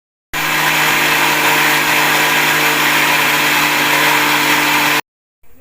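A kitchen mixer grinder crushes mustard seeds and spices for a Bihari-style stuffed red chilli pickle, running as one loud, steady whirring grind for about five seconds before cutting off abruptly.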